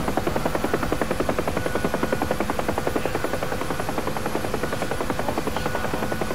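Helicopter flying in DCS World, a loud continuous rotor chop with a fast, even rhythmic thumping and a steady turbine whine.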